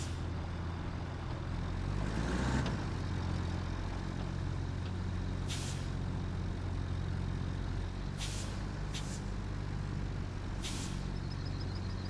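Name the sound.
truck with air brakes in Roadcraft video game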